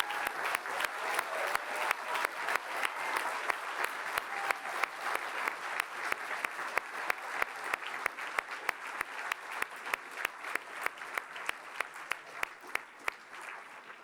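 Audience applause for elected officials at an award ceremony: many people clapping in a steady, sustained ovation, with a few sharp nearby claps standing out in regular rhythm and the sound tapering slightly toward the end.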